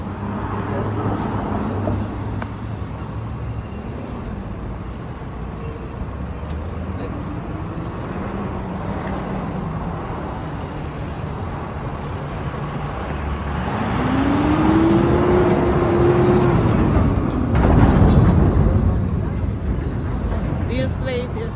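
Road traffic on a Vancouver street, a steady rumble of passing cars and heavier vehicles with a swell as one passes close, plus a brief squealing brake, with people talking over it.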